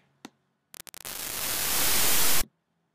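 A synthesizer noise generator set to static fires a few short crackling bursts, then opens into a dense hiss that slowly grows louder before cutting off abruptly.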